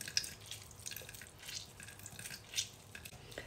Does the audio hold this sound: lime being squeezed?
yes